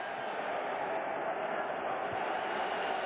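Basketball arena crowd at a 2001 playoff game between the Pacers and 76ers, jeering Jermaine O'Neal with a dense, steady roar of voices that holds at a constant level throughout.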